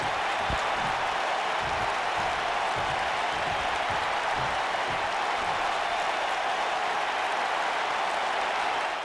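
Wrestling arena crowd reacting with hostility to a gangster character entering: dense, continuous roar of booing and noise from a large audience, loud and unbroken throughout, with no clear talk.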